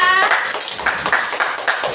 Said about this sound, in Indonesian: tepuk tangan dulu buat kelompok A5